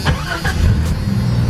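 A 1991 Jeep Cherokee engine cranks and catches on a new ignition switch, a brief starter whir followed by the engine settling into a loud, close, rumbling idle.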